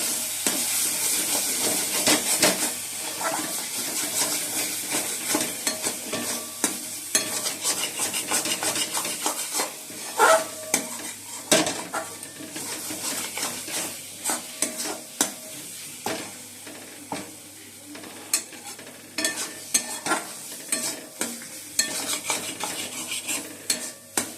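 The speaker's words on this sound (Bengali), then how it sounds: "মশলাটা ভালো করে কষে নিচ্ছি" Spices sautéing in a pan beside fried fish, with steady sizzling and frequent scraping, rubbing stir strokes of a utensil against the pan throughout, close and fairly loud.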